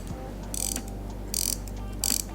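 A 1920 Patek Philippe pocket watch being wound clicks softly and rapidly in three short bursts, like a ratchet being turned, close up and quiet with background hiss between.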